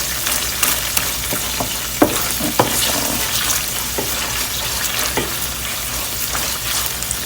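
Tomato paste sizzles and fries in a pan for a Haitian-style herring sauce, with a steady crackling hiss and scattered sharp clicks and scrapes as it is stirred.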